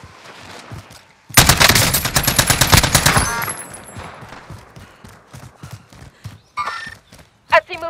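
Call of Duty: Modern Warfare gunfire, a loud rapid automatic burst lasting about two seconds, followed by quieter scattered shots and footsteps, with radio-style voices speaking around it.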